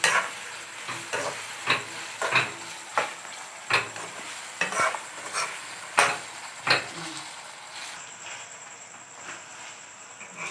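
Honey chilli potato stirred while frying with sesame seeds, a soft hiss of hot oil under regular scraping and clattering stirs roughly every half second to second, close and fairly quiet, with no talk.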